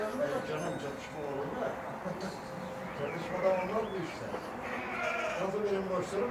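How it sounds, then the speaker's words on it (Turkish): Merino rams bleating at a traditional breeding-stock auction, several overlapping bleats from a crowd of sheep at moderate distance, with people talking throughout. "koçlar"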